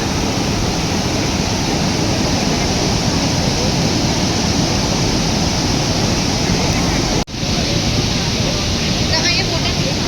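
Montmorency waterfall near Quebec City roars as a loud, continuous broadband wash of falling water, close and unbroken apart from one brief dropout.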